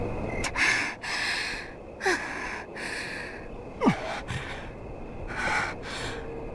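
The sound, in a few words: panting from a video game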